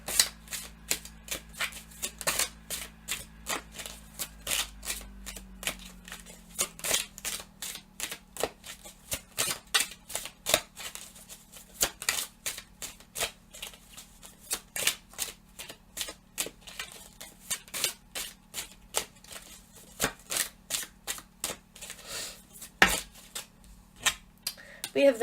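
Tarot cards are shuffled, with many sharp little slaps and flicks in irregular bursts that sound close and fairly quiet over a low steady hum.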